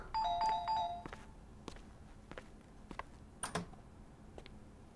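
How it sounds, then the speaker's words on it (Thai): A doorbell chimes several times in quick succession at the start, fairly loud and close, then stops, leaving scattered footsteps and small knocks in a quiet indoor room. "ใครมากดออดอะไรขนาดนั้นเนี่ย"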